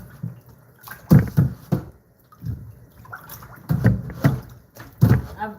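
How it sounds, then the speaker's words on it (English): Ewedu leaves being washed by hand in a bowl of water, with intermittent splashing and sloshing bursts at close range, separated by quieter pauses. "So this is how you wash your ewedu."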